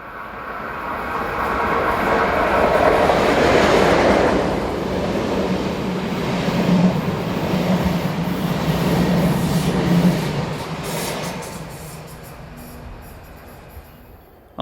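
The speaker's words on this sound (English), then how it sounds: "Number 11302 rounds the corner whilst powering the 1409 from Zurich to Locarno." Electric locomotive 11302 hauls the Zurich–Locarno passenger train around a curve, a loud sustained rumble of wheels and carriages with clattering that swells, holds, then fades as it passes.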